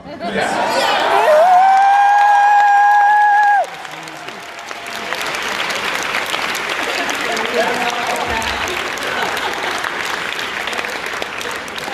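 Audience applause at a Comic Con 2019 panel for the Lucifer cast, loud crowd clapping and cheering with a sustained whistle-like tone at first, then a steadier wash of clapping and chatter for the rest.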